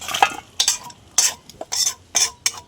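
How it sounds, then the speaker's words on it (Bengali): A spatula stirs ridge gourd frying in a pan. Five or six close, scraping sweeps come in a loose rhythm over a soft sizzle. "একটু জাস্ট ঝিঙেটা ভেজে নেবো, বেশি ভাজবো না, অল্প একটু নেড়ে নেবো"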